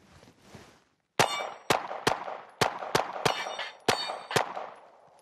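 Pistol shots ring off the steel plates of a dueling tree in a quick uneven string of about eight sharp metallic clangs, each with a short ringing tail, with no talking.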